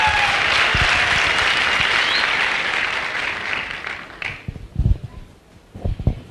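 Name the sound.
audience applause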